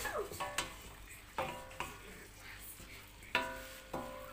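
A spoon stirs risotto ingredients with white pepper in a cooking pot, giving repeated scraping clinks and knocks against the metal at an irregular, unhurried pace, close by over a faint sizzle, with no talking.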